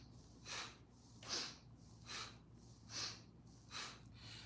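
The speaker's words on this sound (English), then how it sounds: "Sniff and throw breath." Five rhythmic breath cycles from yoga practice, each a quick sniffing inhalation followed by a forceful, hissing exhale, close and evenly spaced, with no talking.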